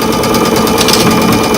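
A home sewing machine runs steadily while piecing quilt flag blocks, a loud, continuous close-up motor whir with needle clatter that holds without pause for the whole stretch.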